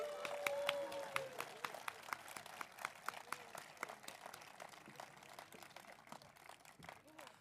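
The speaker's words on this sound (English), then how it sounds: "Can we please have a huge round of applause for them?" A campus Founders Day audience applauds, many hands clapping steadily in a dense, sustained ovation that stays level throughout, with some crowd noise underneath.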